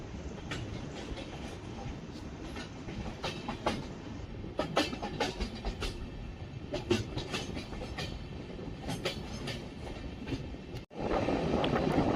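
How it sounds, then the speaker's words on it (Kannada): An overnight passenger train from Bengaluru to Hosapete, just leaving Hosadurga Road station, rumbles steadily with rhythmic wheel clicks heard from inside, and a brief dropout near the end. "ನಮ್ಮ ಟ್ರೈನ್ ಹೊಸದುರ್ಗ ರೋಡ್ ರೈಲ್ವೆ ಸ್ಟೇಷನಿಂದ ಹೊರಟಿದೆ."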